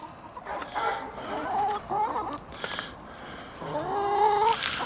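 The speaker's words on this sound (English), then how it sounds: "there's a neighbor's chickens over there" A neighbor's chickens cluck in a short series of uneven, moderately distant calls, with a few fuller squawks toward the end over a faint outdoor background.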